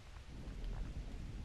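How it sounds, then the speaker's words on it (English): Rain in the video game Bound, a dense low rumbling wash of falling water with faint thunder-like swells, steady and fairly quiet throughout, with no voices. "It's raining in here too."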